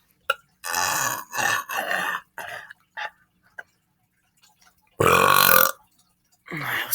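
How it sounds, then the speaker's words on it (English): Several loud, drawn-out human burps come in separate bursts close to the mic, with a long final belch and short gaps of quiet between them. "It may give me better burping."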